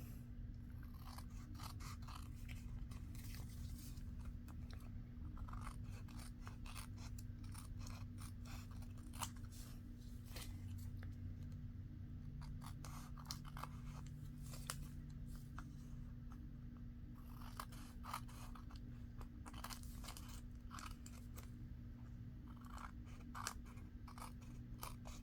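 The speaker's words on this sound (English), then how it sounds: "Could use my bigger scissors, but I like my small ones better." Small scissors snip through paper in repeated crisp cuts while making an envelope, sometimes quick runs and sometimes spaced, close and quiet over a low steady hum.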